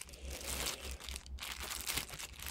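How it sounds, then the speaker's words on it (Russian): A plastic packaging bag rustles and crinkles as a Samsung EI-GP20 gamepad is pulled out of it, close and fairly quiet crackling in short uneven bursts. "Вынимаем из пакетика."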